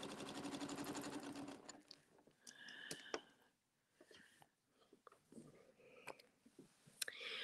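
A sewing machine on a Sew Steady suspension system stitches a continuous border loop. A fast, steady whirring run of stitches comes first, then scattered clicks and taps, with some talk alongside.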